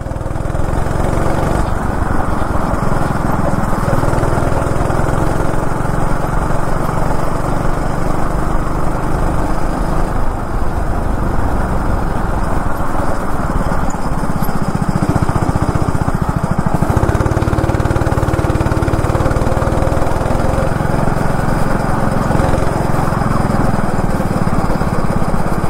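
A go-kart engine on an outdoor track in Chennai drones steadily and loudly for the whole stretch, a buzzy small-engine note that barely changes pitch while the kart drifts through turns.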